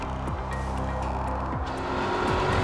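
A big Maserati Quattroporte luxury sedan drones along with a low, steady engine roar and road rumble, the pitch dipping briefly a few times as gears shift, heard from inside at moderate volume with no talking.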